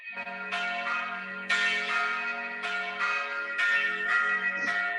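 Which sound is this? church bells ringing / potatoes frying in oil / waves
church bells ringing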